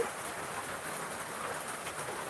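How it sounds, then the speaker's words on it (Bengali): Morning rain falls in a steady, even wash of soft hiss with no other sounds standing out. "সবাই উপভোগ করতে থাকুন এই বৃষ্টি সকালবেলার বৃষ্টি আরামের বৃষ্টি"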